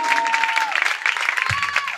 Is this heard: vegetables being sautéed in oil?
no